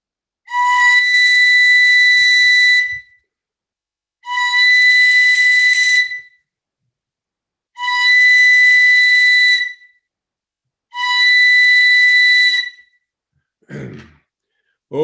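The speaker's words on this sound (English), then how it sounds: "I'd like to call our relatives, this eagle bone whistle here" Eagle bone whistle blown at a ceremony in four long, shrill, steady blasts of about two seconds each, evenly spaced and loud, followed by a short breathy sound.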